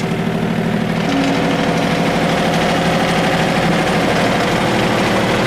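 A tractor engine idling steadily at a loud, close level, a continuous low chugging drone with an even mechanical throb and no voices over it.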